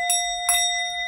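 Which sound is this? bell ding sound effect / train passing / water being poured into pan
bell ding sound effect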